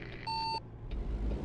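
A weak regular truck horn in American Truck Simulator gives one short steady electronic-sounding beep, alone against a low engine rumble.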